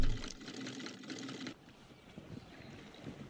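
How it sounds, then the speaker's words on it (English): Sewing machine from the film 28 Days Later, a steady dense mechanical whir that runs loud for about a second and a half, then drops to a quieter rumbling texture. "He's sewing."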